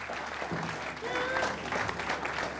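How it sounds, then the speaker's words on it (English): An audience gives a big round of applause at a family event, with steady, dense clapping that carries on throughout, loud and close, and some crowd voices mixed in. "Big round of applause."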